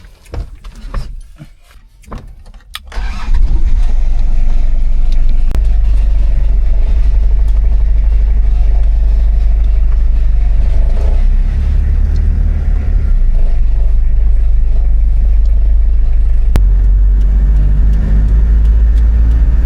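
A car is heard from inside on a drive in Martinique, its engine a loud, steady low rumble that starts abruptly after a few seconds of quieter cabin noise and holds on with road noise and occasional knocks.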